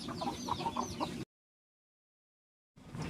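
Chickens clucking close by as they graze after being fed wheat grain, a busy stretch of soft calls that cuts off into silence midway before faint outdoor sound returns.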